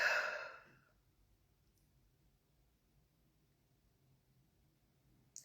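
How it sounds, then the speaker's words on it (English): A single deep, breathy exhale during a guided meditation fades out within about a second and leaves near silence. "take a deep breath in and breathe out"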